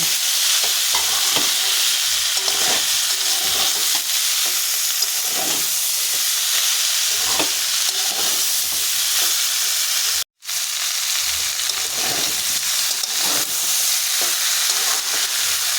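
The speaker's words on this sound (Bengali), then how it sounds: "আবারও একটু ভালো করে নাড়াচাড়া করে নেব" Shrimp cooked with figs are stirred in a hot pan, with a loud, constant sizzle and repeated scraping strokes of a spatula. The sound cuts out for a brief moment, then resumes.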